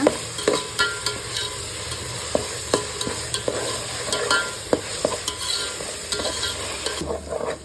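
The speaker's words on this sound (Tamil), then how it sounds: "இஞ்சி பூண்டு நல்லா பச்சை வாசனை போகிற வரைக்கும் வதக்குங்க" Ginger garlic paste sautéing in a pan for chicken curry, a close crackling sizzle broken by repeated sharp taps and scrapes of a spatula stirring.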